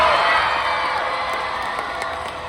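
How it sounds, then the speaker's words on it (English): A convention crowd at a Comic-Con panel cheers and whoops over scattered clapping, a bright continuous roar that slowly fades over a couple of seconds. "let's have a round of applause for this first part of the panel."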